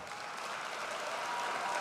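A political rally audience at a meeting in Angers breaks into sustained applause, a dense, even clatter of many hands heard from a distance and steadily swelling.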